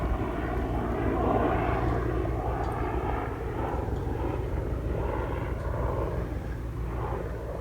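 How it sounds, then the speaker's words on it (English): A helicopter flying overhead above a homestead, a loud, steady engine roar with a rumbling, throbbing undertone that swells slightly and then fades a little as it passes, with no talking. "Helicopter."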